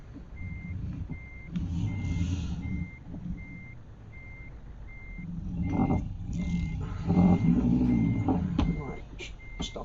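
Reversing alarm on a truck pulling a trailer in Euro Truck Simulator 2, a steady string of evenly spaced high beeps over engine rumble and air-brake hiss, with someone talking throughout.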